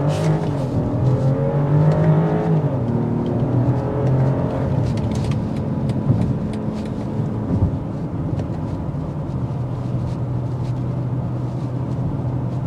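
A 2023 BMW X7 accelerating on a test drive, a steady loud engine roar that rises in pitch and then settles into a continuous drone heard from inside the cabin, with no talk.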